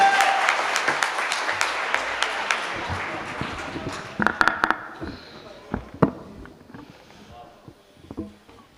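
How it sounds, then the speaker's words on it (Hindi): An audience at a poetry recital applauds loudly; the clapping swells and then thins out into scattered claps. "ज़ुबैर अली ताबिश का पुरजोर ताली में इस्तकबाल करें।"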